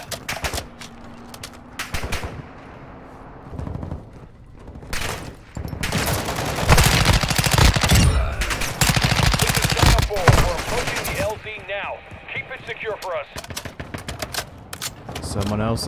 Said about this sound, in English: Hope that was them trying to shoot at me and not just somebody else.